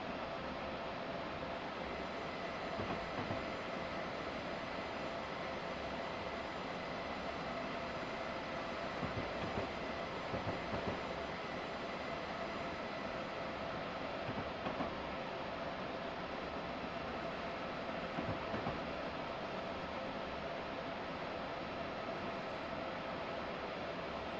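A train running on the New York to New Haven line, heard as a steady, muffled rumble and hiss of wheels on track with faint rhythmic clicks throughout, fairly quiet and without talk.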